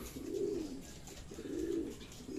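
Racing pigeons coo softly in two rolling bouts at a loft during sprint-race training in Tiaong, Quezon, the low burbling calls repeating over faint background hiss.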